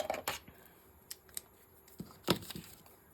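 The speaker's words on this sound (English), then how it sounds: "Let's cut this out really quick" Scissors snip through paper for a handmade altered Rolodex art card, a handful of quiet, sharp cuts arriving in irregular bursts with short pauses, close and faint.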